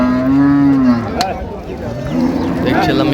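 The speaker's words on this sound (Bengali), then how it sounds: "গাভী বাছুর আমরা দেখছিলাম এখানে।" A cow moos loudly and close by at a busy village cattle market in Dinajpur, one long low call followed by a shorter second moo, with crowd murmur and distant voices behind.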